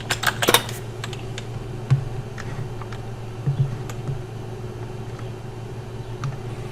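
Light, sparse keystrokes on a computer keyboard, scattered clicks over a steady low hum in a quiet room, with no voices.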